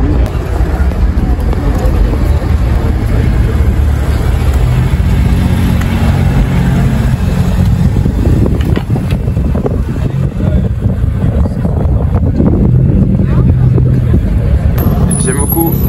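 A white Alpine sports car's engine roars very loudly and steadily at a car meet in a supermarket car park, with wind buffeting and a voice talking over the heavy, constant rumble.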